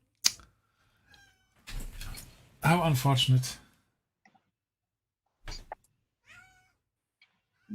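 A pet cat meows for food in short, separate calls, the loudest a drawn-out wavering meow, with a voice speaking briefly between them and quiet gaps all around.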